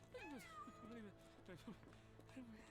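A cat in the video game Sherlock Holmes: The Awakened meows several times in quick succession, clear and close over a steady game background hum.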